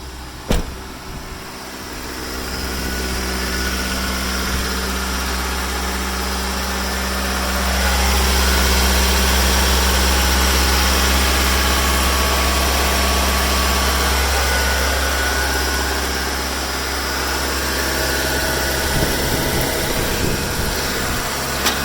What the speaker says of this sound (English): I know my engine bay's a mess, but it seems like it's running good.